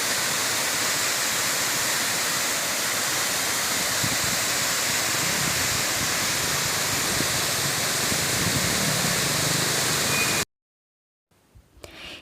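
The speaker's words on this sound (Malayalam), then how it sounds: "ഇതും ഈ റൂട്ടിലെ ഒരു വെള്ളച്ചാട്ടമാണ്. ചാറ്റുപാറ വെള്ളച്ചാട്ടം എന്നാണ് ഇതിൻ്റെ പേര്." Chattupara waterfall beside the road to Munnar roars as a dense, steady rush of falling water, loud and unbroken for about ten seconds before cutting to near silence, with faint sounds returning at the end.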